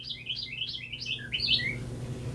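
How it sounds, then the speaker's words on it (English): A small bird chirps close by, a quick run of about a dozen bright, rising tweets over roughly two seconds, heard alone over a low steady room hum. "You hear the bird? He's coming for class."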